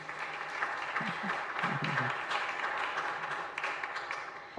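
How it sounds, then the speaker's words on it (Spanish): A church congregation applauds visiting guests at a chapel, steady moderate clapping filling the space, with a few faint voices underneath. "un aplauso para ellos también que están hoy aquí"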